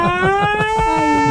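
A voice imitates an emergency siren with a rising and falling wail that pulses rhythmically, loud and close, lasting just over a second.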